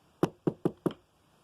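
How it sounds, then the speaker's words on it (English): Four quick, evenly spaced knocks on a wooden door, close and crisp, followed by silence. "And she knocked on the door."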